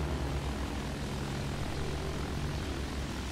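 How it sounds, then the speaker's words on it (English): Bomber plane engine in Battlefield 1, a steady dense propeller drone with a broad roaring wash, continuous and fairly faint, with no talk. "I'm in a bomber plane."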